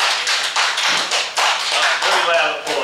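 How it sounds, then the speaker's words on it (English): Loud, dense applause from a conference audience after a talk on electric vehicles and sustainability, steady clapping filling the whole stretch with no pause. "Very loud applause, that's what I like to hear"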